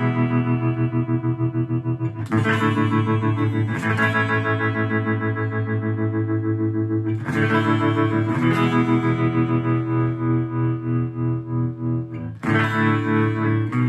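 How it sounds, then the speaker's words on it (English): Electric guitar played through a Fender Champion 40 amp with its tremolo effect, sustained chords pulsing in steady waves, struck afresh several times, loud and close with no talking. "And then tremolo again, very similar to vibes."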